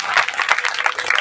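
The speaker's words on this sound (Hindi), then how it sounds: "जोरदार ताली बजा दो हमारे भक्तों के लिए।" An audience of devotees at a temple religious discourse bursts into loud, dense applause, with continuous overlapping clapping close by and a faint crowd murmur underneath.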